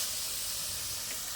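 Water pouring steadily into a pot of rice for Jagannath kanika bhog, a continuous hissing rush without pauses.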